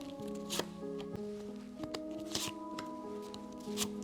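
Tarot cards are riffled and slapped down in a series of crisp shuffling bursts, with a faint tonal hum running steadily underneath.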